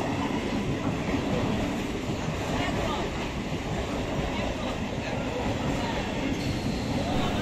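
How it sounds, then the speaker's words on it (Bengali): A train rolls past a level crossing, producing a continuous loud rumble and rattle of wagons with faint rhythmic clatter throughout, and a voice is briefly heard underneath. "এখানে লেভেল ক্রসিংয়ে অনেকক্ষণ দাঁড়াতে হয় যে কোনো সময় ট্রেন এলে"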